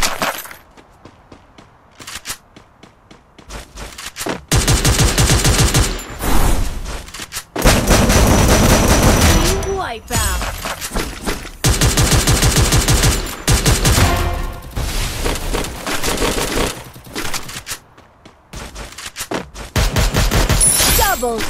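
Loud bursts of gunfire with PARAFAL and MP40 in a battle-royale shooter game, dense automatic fire in repeated runs with brief pauses between volleys.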